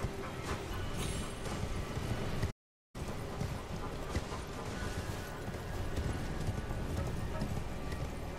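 Horse hooves clip-clop steadily as a mount travels in the video game Elden Ring, a dense continuous patter with a brief silent break partway through and no talk.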